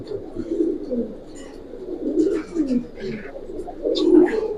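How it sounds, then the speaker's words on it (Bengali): Soft, throaty coos from a Giribaz pigeon repeat in low bursts, with people talking intermittently nearby. "অনেক সুন্দর একটা কবুতর"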